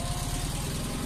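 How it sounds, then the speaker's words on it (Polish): Vintage Fiat 126P car engine running steadily at a classic vehicle championship, a continuous close, loud mechanical drone with a low rhythmic throb and no talking. "Troszkę inny dźwięk silnika, ten samochód jest trochę cichszy."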